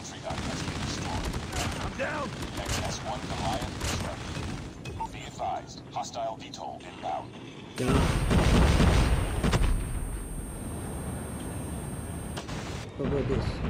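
A Gatling gun firing in Call of Duty Mobile during a Capture the Flag match: continuous rapid gunfire with a heavier, denser burst midway through, mixed with other game sounds and effects.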